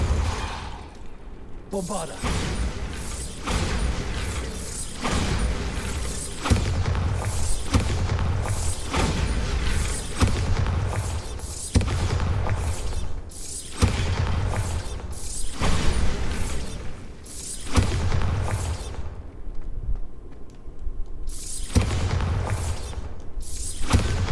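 Repeated Bombarda blasting spells detonate in Hogwarts Legacy, a steady run of loud booming impacts with mechanical clanks and whooshes, closely spaced across the whole stretch, with brief voice moments in between.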